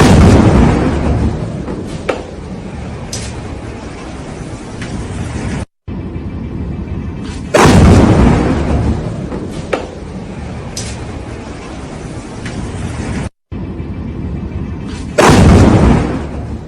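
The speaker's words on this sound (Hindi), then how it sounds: "तेल अवीव की तस्वीरें, जहां इजराइल के मुख्य शहर में जबरदस्त बमबारिंग की तस्वीरें सामने आई है" Bombing explosions in Tel Aviv, Israel hit as heavy booming blasts, each followed by a long roaring rumble. Three loud bursts are split by brief cuts, and faint voices sit underneath.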